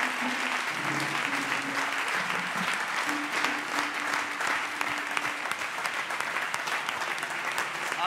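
A church congregation at a Sunday service applauds in sustained, dense clapping that fills the room, with a voice briefly audible over it.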